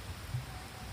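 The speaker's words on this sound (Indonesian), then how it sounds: "karena hujannya lumayan deras ya" Heavy rain pours down in a steady, even hiss over a rice paddy during eel fishing, with no other sound standing out.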